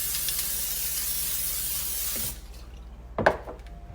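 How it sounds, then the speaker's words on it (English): Cooking spray hisses steadily from a can onto a 9x13 baking pan for about two seconds, then stops, followed by a brief clatter of the pan in a home kitchen. "I'm gonna spray my pan. I have a 9x13 here."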